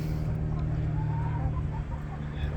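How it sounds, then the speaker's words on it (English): A few hens cluck softly inside a chicken coop over a steady low background hum, with faint scattered calls and no talking. "I've only got 4 hens at the moment."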